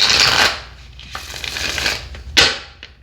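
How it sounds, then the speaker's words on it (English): Tarot cards being shuffled by hand, close and loud, with a long riffling burst at the start, softer slides in the middle and a sharp riffle near the end. "One more shuffle here, Aries, and then you're good to go."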